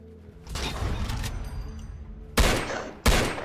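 Game gunfire: a sustained burst of rapid shots followed by two separate loud single shots, close and punchy with no voices.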